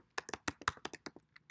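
Typing on a computer keyboard, about a dozen quick, close, fairly soft key taps in an uneven rhythm.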